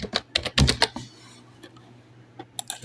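Quick bursts of clicks come from a computer keyboard being typed on at close range, loud at first, then a pause before a few scattered keystrokes.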